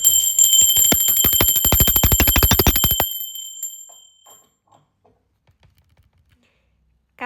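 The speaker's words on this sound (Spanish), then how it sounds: "Ahora sí, va campana." A bell rings fast and loud right up close, its rapid metallic strikes running steadily for about three seconds before stopping abruptly and leaving near silence.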